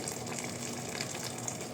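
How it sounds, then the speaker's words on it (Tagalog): Plain water pours steadily into a pot of Chinese root soup on the stove, a continuous splashing gush at close range with no voices. "Add more plain water."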